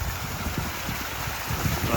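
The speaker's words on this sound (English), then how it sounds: "we flip that switch, put it at a high speed, and we get quite a waterfall" A natural stone pool waterfall, its pump running at high speed, pours as a steady, broad rush of falling water, close and continuous, with a low rumble beneath.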